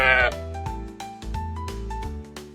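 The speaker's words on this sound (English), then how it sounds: "Sheep." A sheep gives a brief, nasal bleat at the very start, followed by bouncy background music.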